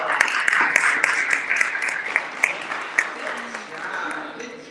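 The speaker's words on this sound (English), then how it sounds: "give yourself a hand clap because you showed up for a very meaningful conversation" An audience at a Phoenix District 8 candidate forum applauding, a dense patter of hand claps running throughout and slowly thinning toward the end.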